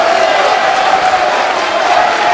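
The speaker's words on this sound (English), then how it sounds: "And the crowd loses it!" A dense, loud crowd erupting in roaring cheers and shouts at the EVO 2012 King of Fighters XIII winners final tournament, sustained without pause throughout.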